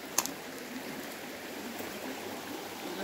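A swollen river in flood rushing steadily, heard as a soft, even wash of water noise from a little distance, with one brief click near the start.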